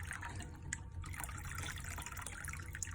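Distilled water pours steadily into a container, a continuous splashing trickle with no talking.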